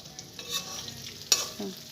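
Rohu fish fries in hot oil with a low sizzle, as a spatula clinks and scrapes the pan a few times in short bursts; no voices.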